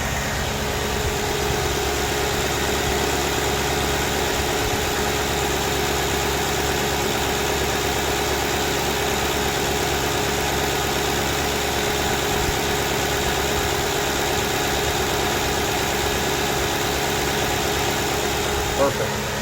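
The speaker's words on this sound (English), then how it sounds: "I'm gonna be quiet now so that you get to hear the engine." A 2009 Ford Crown Victoria Police Interceptor engine idles steadily for the whole stretch, a constant low rumble with even vibration and no talking.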